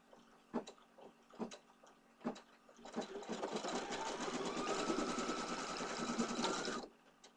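An embroidery machine stitches a face design onto material in a hoop: a few sharp clicks, then about four seconds of loud, steady, rapid whirring before it stops abruptly.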